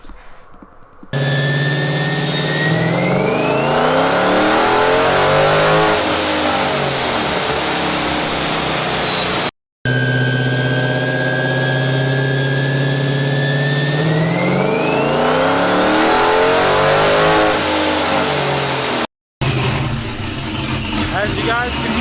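Hemi V8 fitted with a Texas Speed camshaft, close and loud, idling with a choppy lope and then revving up and settling back down twice, on a dyno setup.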